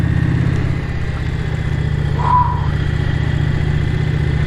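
A heavy motorcycle engine rumbles steadily at close range with no speech, holding a low even drone and lifting briefly in a small rev while riding through a village.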